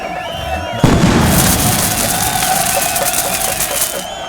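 Fireworks in a Malayalam action film scene: a sudden loud boom opens a sustained crackling roar of bursts and pops that carries steadily to the end, with a crowd faintly beneath.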